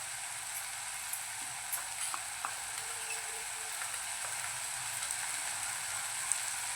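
Pav bhaji frying in a pan while spices are stirred in gives a steady, close sizzling hiss, with a few soft spoon taps and scrapes scattered through it.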